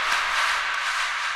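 Reverse sound effect in a deep progressive house track with two overlapping delays: a dense, hissy wash that holds steady over a short stretch and echoes back and forth.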